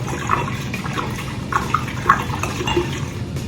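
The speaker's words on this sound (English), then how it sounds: "go right into the decanter. You just got to trust it. If you don't, it'll splash all over the place." Wine being poured from a bottle into a decanter, a continuous liquid trickle with a few brighter splashes and glugs, close by and moderately loud, no talking.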